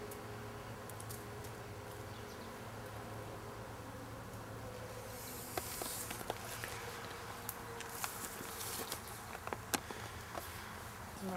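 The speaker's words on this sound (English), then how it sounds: "Ooh, big bee. Look at that one." A big bee buzzes faintly outdoors on a mountain pass, a soft continuous drone under a quiet background, with scattered crunching footsteps and small taps joining partway through.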